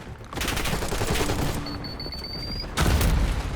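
Rapid bursts of automatic gunfire in Call of Duty Black Ops 6, a dense continuous volley with a brief high whine in the middle and a louder burst near the end, with no talking.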